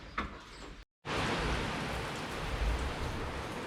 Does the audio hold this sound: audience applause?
no